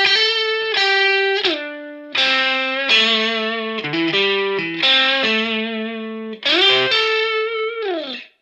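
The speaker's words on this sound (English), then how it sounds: "so for this one I'm using this Magneto Guitars U1 Sonnet Modern, and the lick sounds like this." Blues lick on a Magneto U1 Sonnet Modern electric guitar, a loud, close run of sustained bent and slid single notes with slight overdrive, phrases separated by brief pauses, played alone without talk.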